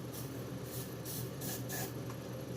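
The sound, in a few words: spraying starting fluid into chainsaw carburetor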